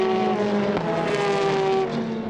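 GTE race cars, including a Ferrari and the number 55 Spirit of Race car, roar past at Le Castellet during the 2021 4 Hours race: a loud, continuous, close engine drone that swells as they pass.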